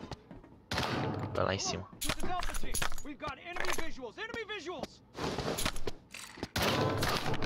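Gunfire in a free-to-play extraction shooter game modeled on Escape from Tarkov, with bursts of shots and sharp impacts coming at the player, mixed in with someone talking in Portuguese over the game sound.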